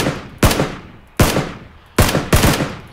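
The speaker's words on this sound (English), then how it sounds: "Shoot at the guy on the left, Dorian." Gunfire in a battle royale video game, four sharp shots spaced about a second apart, each loud and close with a decaying tail, no talk over them.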